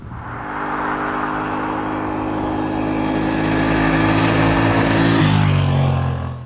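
A Honda XL750 Transalp adventure motorcycle's engine runs steadily with a strong harmonic drone, then its pitch shifts near the end as the revs change, close and loud with no talking.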